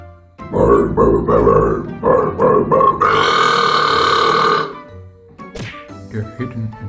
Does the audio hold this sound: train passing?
no